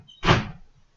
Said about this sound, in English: Could you shut the door?